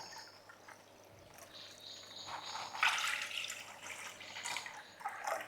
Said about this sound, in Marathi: एक वाटी तांदूळ अडीच वाट्या पाणी पाणी